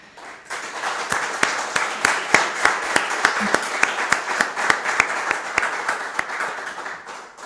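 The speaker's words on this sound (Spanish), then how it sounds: "pues por lo menos que le aplaudan desde aquí" Applause from a room of attendees at a genealogy and family history lecture, with distinct individual hand claps standing out in a steady rhythm over a softer background of clapping.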